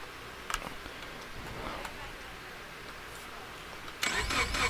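Quiet background with a couple of faint clicks, then an engine cranks and catches abruptly near the end, rumbling loudly.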